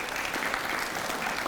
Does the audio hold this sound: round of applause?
yes